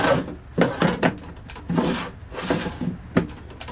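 Drawers on a salvaged tool box stand are slid open and shut, giving a handful of quick knocking, scraping bursts with short gaps between them, close and fairly clear.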